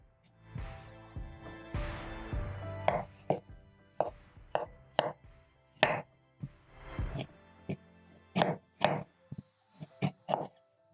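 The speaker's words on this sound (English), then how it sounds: "Then using my sharp knife, I'm going to peel my arrowroots." A sharp knife works over muddy arrowroot tubers, making a series of irregular soft knocks and scraping taps against a board, fairly close and quiet, with pauses between strokes.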